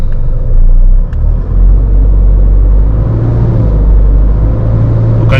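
An Isuzu D-Max with a 4JJ1 engine running in third gear at 1500 RPM with the handbrake pulled tight, a loud, close, low steady rumble and drone with a brief dip early on, in a residential area.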